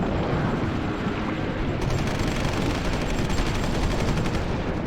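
Anti-tank gun fire in the war strategy game Supreme Ruler Ultimate, a dense, continuous barrage of gunfire and booms that stays loud and steady throughout, with no voices.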